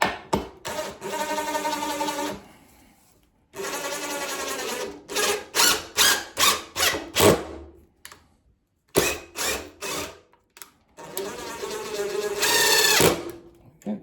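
A power driver drives screws to join honey house panels, sounding as several whirring bursts of varying length with short pauses between, close and fairly loud.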